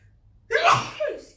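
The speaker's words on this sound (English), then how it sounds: "I think I'm going to sneeze again." A single close, loud sneeze from an instructor during a Pilates session: a sharp inhale, then an explosive burst with a short tail.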